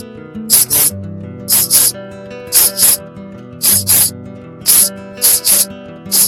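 Cartoon effect of chemical spray being sprayed on vegetable plants: seven short hissing spray bursts, mostly in quick pairs, loud and close over a soft musical backing.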